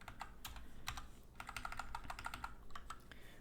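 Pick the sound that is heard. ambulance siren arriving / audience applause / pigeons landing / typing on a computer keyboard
typing on a computer keyboard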